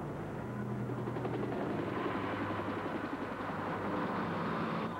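Steady low rotor drone of a helicopter, fairly faint and continuous, with a dull thrumming pulse and no voices.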